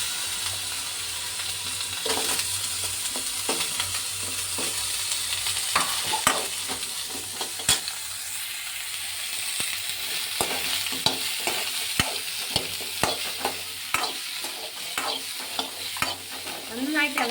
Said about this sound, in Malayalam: നന്നായി ഇളക്കി കൊടുക്കുന്നുണ്ട്.